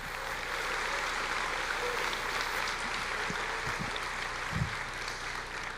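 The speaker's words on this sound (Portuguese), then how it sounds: "Aplauda o Senhor, querido." A church congregation claps together in a steady, sustained round of applause, with a few low thumps near the end.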